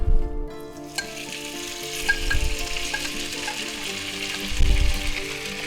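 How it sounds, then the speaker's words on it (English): Marinated beef for a spicy beef and vegetable stir-fry sizzles steadily in a hot oiled pan, a close, continuous crackle with a few louder bursts and low clatters as the meat is moved, no talking. "We're going to add our marinated beef here."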